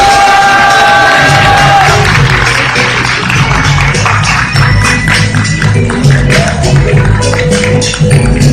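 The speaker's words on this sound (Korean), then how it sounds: "큰 박수로 김원우 상임 대표님 모시도록 하겠습니다." A crowd at a Democratic Party political forum breaks into loud cheering and applause to welcome its standing representative, with shouts and whoops over continuous clapping close by.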